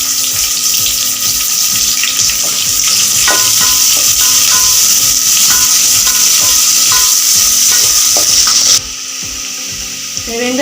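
Green chillies, garlic and shallots for a dried-fish kulambu fry in a pan with a constant close sizzle, broken by repeated scraping knocks of stirring. The sizzle drops softer near the end.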